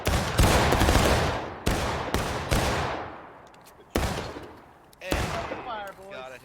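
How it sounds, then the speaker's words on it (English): Irregular musket shots from a line of soldiers firing at will in War of Rights, each loud crack ringing out and decaying, about half a dozen in succession, with a voice calling out near the end. "Independent fire to the northeast commence."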